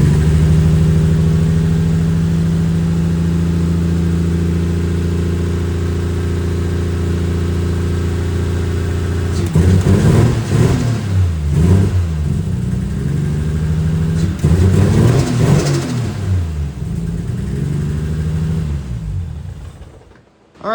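Toyota 1JZ engine swapped into a Mazda RX7, idling steadily and loudly at close range, then blipped through several sharp revs in two clusters before settling and cutting off.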